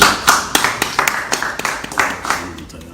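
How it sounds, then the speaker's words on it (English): A small group of people clap at a live talk-show broadcast, a few distinct hand claps spaced irregularly, mid-distance and fairly loud, with some voices faintly audible underneath. "Clap for all the people who."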